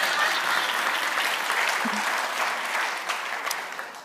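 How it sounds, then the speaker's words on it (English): Steady applause from a church congregation at a Sunday service, a dense roomful of clapping that carries evenly for several seconds and tapers slightly toward the end. "Give me applause."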